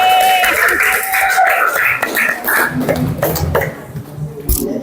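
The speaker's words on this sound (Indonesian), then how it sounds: "Tepuk tangan untuk kelompoknya Fani." Classroom applause for a student group, a loud burst of clapping that thins toward the end, mixed with voices and murmuring from the students.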